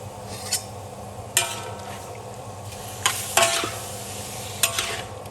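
Pork cracklings stirred in a pan over high heat with water, scraping spatula strokes and clinks against a steady background bubbling sizzle, close and moderately loud with no talking.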